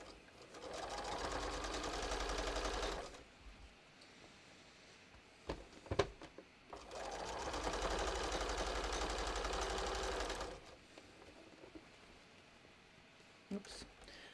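A sewing machine runs in two sustained bursts while understitching a bathrobe seam, each a few seconds long, with a few clicks and taps in the quieter gaps between them.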